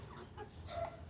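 Chickens cluck softly while drinking water, a few short mid-pitched calls rising over low background rustle and faint ambient noise.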